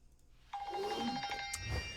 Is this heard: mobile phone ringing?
yes